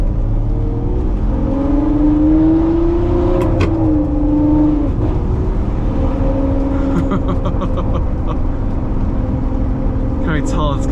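A Ferrari 599 engine drones loudly through its exhaust, the pitch swelling and easing as it revs, with a voice talking over it.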